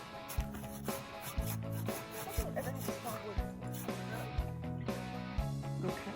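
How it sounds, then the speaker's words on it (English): Firewood is cut at a backpacking campsite on a Savage Gulf trail, with repeated rhythmic rasping saw strokes about once a second, fairly faint, amid outdoor background noise. "We're cutting firewood."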